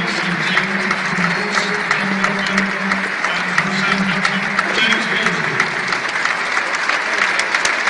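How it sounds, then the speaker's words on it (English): A packed football stadium crowd in Wolverhampton stands and applauds in memory, steady dense clapping from many hands continuing throughout with faint voices mixed in. "please be upstanding as we share in 1 minute's applause in memory"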